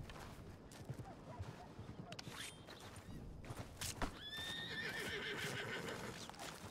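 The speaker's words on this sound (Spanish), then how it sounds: "Caballo, caballo, caballo," In the Red Dead RP video game, a horse whinnies with a shrill, wavering call over steady clip-clopping hooves and thuds, with faint background noise throughout.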